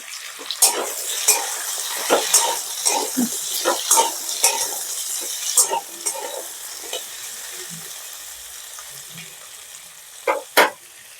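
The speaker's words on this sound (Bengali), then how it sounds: "আলু আর কুমড়ো আমার অনেকটাই ভাজা হয়ে গেছে" Potato and pumpkin pieces frying together in a pan for a pumpkin and Malabar spinach curry, with a steady sizzle broken by repeated scraping stirs and clinks of a spatula against the pan.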